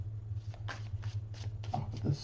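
Tarot cards are shuffled close by in a quiet room, giving several short, soft riffling bursts over a low steady hum.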